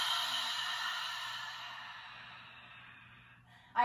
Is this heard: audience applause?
no